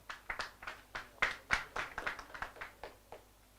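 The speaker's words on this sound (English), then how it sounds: "So I think you can clap for them." An audience claps for a serving committee at an annual general meeting, with a steady run of sharp, fairly close hand claps tapering off toward the end, no voices.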